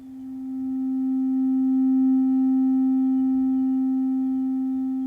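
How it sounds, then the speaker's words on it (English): A pure synthesized sine wave tone from VCV Rack holds one steady pitch, swelling slightly in loudness and then sustaining evenly with no other sounds. "We can hear what this sine wave sounds like"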